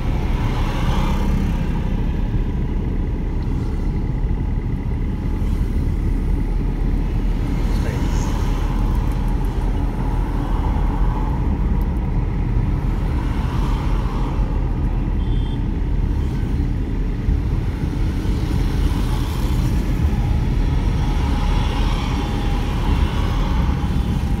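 A car engine drones low and steady while a learner drives during a driving lesson, with road rumble throughout and an instructor talking over it.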